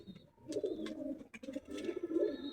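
Racing pigeons coo continuously in a loft at night, low rolling calls overlapping softly at close range with a few sharper chirps.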